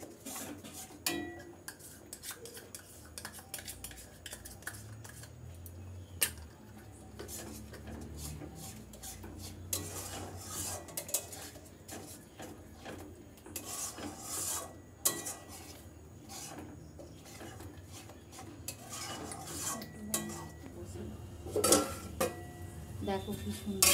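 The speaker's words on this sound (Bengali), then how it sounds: "টক দইটা দিয়ে নাড়বে, নাড়বে টক দইটা ছানা ছানা হয়ে যাবে।" A utensil scrapes and clinks against a pan while sour yogurt is stirred into chicken bharta masala, with irregular metallic scraping and tapping close up throughout, no talk.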